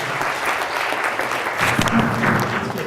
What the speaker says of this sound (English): let's give Steve a big round of applause